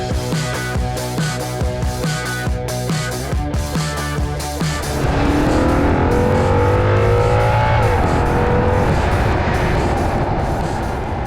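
A 2012 Audi RS5 with a naturally aspirated 4.2-litre V8 idles with a rhythmic, throbbing burble and then breaks into a loud, rising rev that roars on continuously, heard up close with no talking.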